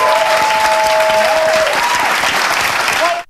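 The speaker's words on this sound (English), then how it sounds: "Everybody in that audience, just a sea of like mindless cheering." An audience at a drag performance by an 11-year-old drag queen bursts into dense, sustained applause and cheering that stays loud throughout, then cuts off abruptly at the end.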